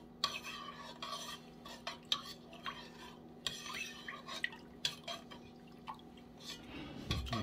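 Venison seasoned with kosher salt being mixed, giving quiet, irregular clicks and soft wet scrapes spread across several seconds over a low steady hum, with no talking.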